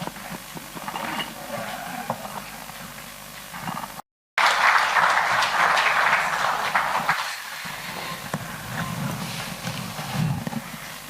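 Scattered audience clapping for the artists at a short-film screening, uneven and moderate, broken by a brief dropout, then swelling louder before thinning out under background noise and a speaking voice.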